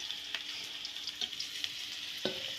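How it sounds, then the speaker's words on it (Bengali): Potatoes fry in a pan with a steady, faint hiss of oil, broken by occasional light stirring taps and scrapes close by, without any voices. "আলু ভাজা হয়ে গেছে"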